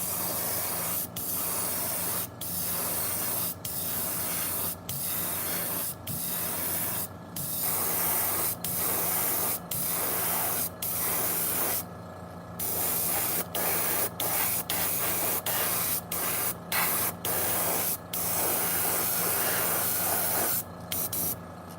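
An airbrush sprays white base coat onto a fishing lure in steady hissing bursts, each pass cut by short pauses as the trigger releases, close and continuous for the whole stretch with no talking.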